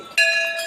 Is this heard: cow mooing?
no